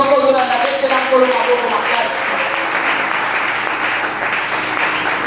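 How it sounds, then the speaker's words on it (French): A church congregation at a Wednesday worship service applauds and cheers loudly throughout, with a dense wash of clapping and raised voices that stays strong the whole time. "si tu me suis, acclame fort le Seigneur"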